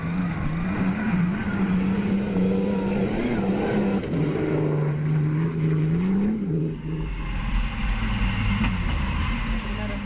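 A rally car races along a gravel rally track in Reguengos de Monsaraz, its engine droning and rising through gear changes, with a shift in tone partway through as it passes.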